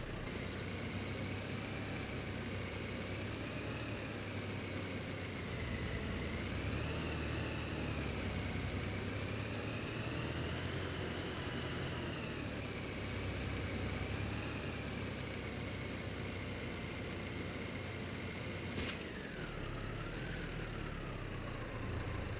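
Diesel tractor in Farming Simulator hauling a load of logs out of a forest, its engine droning steadily at constant revs throughout, loud and close, with a brief high click near the end.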